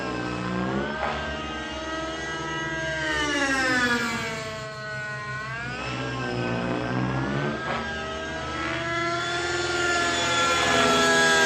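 Nitro RC helicopter engine held at full throttle, a loud, close, high whining drone whose pitch sweeps up and down repeatedly as the model climbs and turns.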